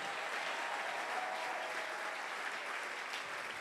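A church congregation applauding to acclaim the Lord during a sermon, a steady sustained wash of clapping from many hands, fairly distant and even throughout.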